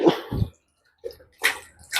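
Water is poured slowly from a bucket into a home aquarium, making intermittent splashing and gurgling in short bursts separated by quiet gaps.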